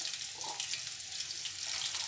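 Water poured into a pan of frying katla fish curry with potato and pointed gourd, giving a steady hissing sizzle and bubbling that runs evenly throughout, close and fairly quiet, with no talk.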